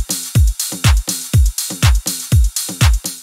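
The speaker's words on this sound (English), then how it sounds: "techie, full-sounding, bright drums that sound like this." Bright, techie, full-sounding house drums, a punchy four-on-the-floor kick with snappy claps and crisp hats looping in a tight, loud, even groove, no voice.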